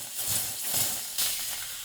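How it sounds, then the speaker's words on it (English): Gaggia Classic Pro espresso machine purging its steam wand, a steady airy hiss that swells in two bursts, moderately loud and close, with no talk. "Purge the steam."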